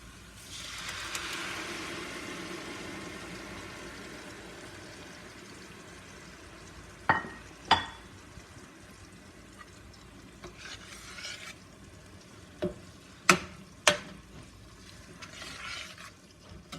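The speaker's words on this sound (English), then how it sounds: "At this point, I'm going to add the pepper mix." A pepper mix goes into a pot for jollof rice, setting off a soft, fading sizzle, followed by a few sharp clanks and scrapes of a spoon stirring against the pot, close and quiet with no voices.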